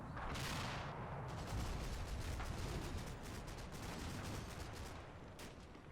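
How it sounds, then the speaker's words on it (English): Machine gun fire from a strategy war game as an MG team trades bursts with an enemy machine gun team, dense rapid crackling shots layered with distant rumble, loud and continuous with no talk. "It's having a kind of machine gun duel with an enemy MG team over there"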